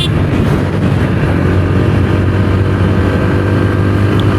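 TVS Apache RTR 160 4V motorcycle engine, a 2025 model, droning steadily in fourth gear at speed, a loud continuous hum with rushing wind noise and no talk.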